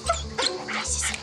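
Belgian Malinois whimpering and yipping at a reunion, a few short high whines over about a second, close by, with faint voices and background noise.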